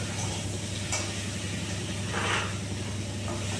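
Mixed vegetables for a Bengali curry frying in a pan, giving a continuous soft sizzle and hiss at close range with a brief scrape of stirring partway through, no talking.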